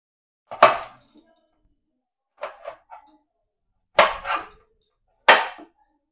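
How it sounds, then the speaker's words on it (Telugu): A knife chops tomatoes for Andhra-style pandu mirapakaya tomato pappu: four or five crisp, close blade strikes on a board, spaced irregularly with quiet gaps between them. "టమాటాలు కట్ చేసుకుందామండి."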